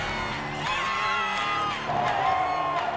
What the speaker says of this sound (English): It's the roar of the crowd.